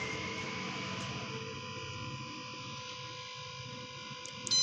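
Xerox 5955 photocopier running through a copy cycle, a steady mechanical whir and hum holding level throughout, close and continuous, with a brief clack right at the end.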